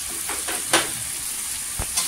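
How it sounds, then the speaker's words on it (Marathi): Spices frying in hot oil in a pan, a steady soft sizzle broken by a few sharp stirring scrapes, close and fairly quiet, with no talk. "इथे तेलावर मसाले आहेत ना परतून घ्यायचं"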